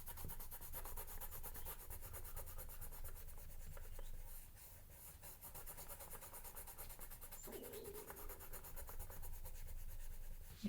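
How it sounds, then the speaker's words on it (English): Soft, continuous scratchy rubbing of pastel strokes on paper, close and quiet, with a brief pause midway before the strokes resume. "Sometimes I'm making shorter strokes, a little bit more aggressive strokes."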